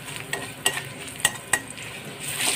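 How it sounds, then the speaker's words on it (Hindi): Garlic sizzles in hot oil in a pan for black pepper paneer, with a steady fry hiss broken by several sharp scrapes and clinks as a spoon stirs it. "लहसुन को अच्छी तरह से फ्राई कर लेंगे"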